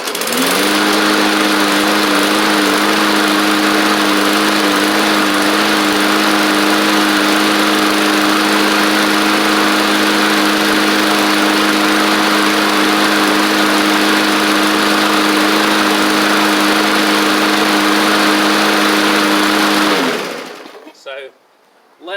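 A Briggs and Stratton OHV engine on a Bolens push mower runs loud and steady at close range with a droning hum, then cuts out and winds down near the end.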